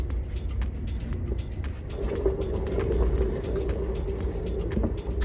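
An acrylic pour paint spinner whirs steadily, a continuous motor drone with a rising mid hum and scattered clicks and rattles throughout.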